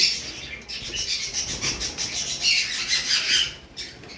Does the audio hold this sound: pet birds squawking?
yes